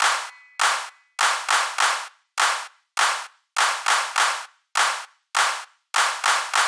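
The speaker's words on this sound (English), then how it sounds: "For the last one, just clap." A group clapping in time to the children's song Bingo, filling the silent letter beats with 16 sharp, close claps in short clusters of twos and threes, alone with no singing.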